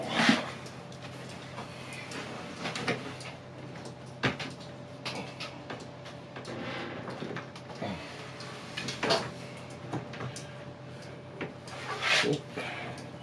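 A second melamine kitchen cabinet drawer is fitted and slid into place, giving scattered wooden rubs, knocks and sliding scrapes with sharper clunks near the end, close and moderately loud, with no talking.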